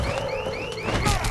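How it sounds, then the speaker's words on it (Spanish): Alarm blaring in the video game Dead Island 2, a loud repeating siren with rising electronic sweeps, heard alone. "¿Dónde está la mierda de la alarma?"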